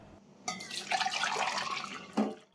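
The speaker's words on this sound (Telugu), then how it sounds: "మిగిలిన నీళ్ళు బాటిల్లో వేసుకుంటాను." Leftover hot water is poured from a kadai into a bottle, giving a steady splashing pour of about two seconds at close range, with no talk over it.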